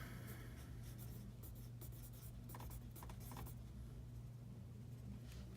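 Pen writing a formula during a math lesson, a faint scratchy rubbing in short strokes over a steady low hum.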